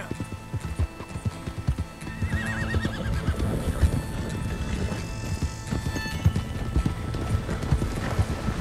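In Red Dead Redemption 2, steady horse hooves clip-clop along at a walking rhythm, with a short whinny partway through, all close by and without speech.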